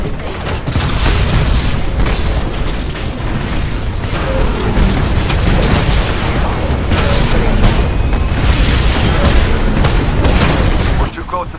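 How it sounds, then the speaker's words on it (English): A cannon firing in the Titanfall video game, with heavy booms inside a loud, continuous roar of battle that lasts nearly the whole stretch before cutting off. "Spinning up the cannon for another shot."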